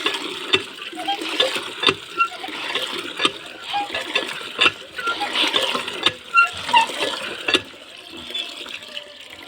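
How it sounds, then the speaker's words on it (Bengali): Water running from an outdoor household tap with low iron content, splashing and filling a container in a steady, irregular stream, with a voice talking over it. "এই যে কল জেঠিমণিদের এই সামনের কলের থেকে জল নেবো"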